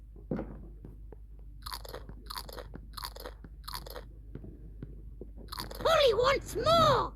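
A cartoon parrot crunches crackers in a Peppa Pig feeding game, four quick crisp crunching bursts in a row, followed by a squawky voice at the end.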